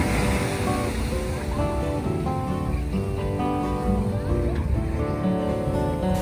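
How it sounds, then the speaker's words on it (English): Ocean waves breaking along the shore at Kaanapali, Maui, form a loud, steady roar of surf and wash throughout, with some wind across the microphone and a faint underlying tone that could be a nearby boat. "The shore break was a little rough the day we took our tour"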